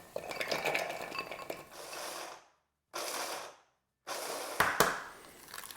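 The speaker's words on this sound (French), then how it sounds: "on va prendre les noix et on va les mettre dans un robot pour les hacher grossièrement" Walnuts coarsely chopped in a food processor: three short pulses of clattering, grinding blade noise separated by silent pauses, close and fairly loud.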